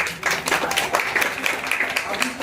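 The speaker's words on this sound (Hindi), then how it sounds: "ताली मारेंगे।" Guests at a church wedding in Bimalagarh clap together in a brief, fairly close burst of quick, uneven claps, with people talking over it.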